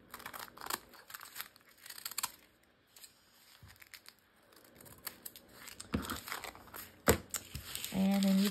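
Crinkly plastic bag being snipped and handled with scissors to make a pocket for a junk journal, soft irregular crackles and cutting sounds close to the microphone with quiet gaps and a sharp rustle near the end.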